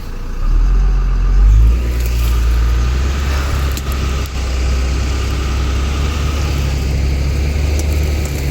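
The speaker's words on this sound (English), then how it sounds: "We're just backing up part way." A bus maneuvering in reverse runs with a steady low engine drone at close range, with a brief louder rev early on and no voices.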